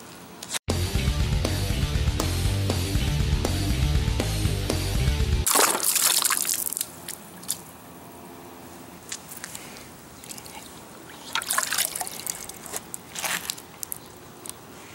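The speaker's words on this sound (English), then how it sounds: "I'm gonna go ahead and drop it in a bucket of water so you guys can check it out." A two-way radio drops into a bucket of water, heard as a sudden plunge and splash that cuts off a loud, steady signal, followed by scattered sloshing, trickling and small splashes.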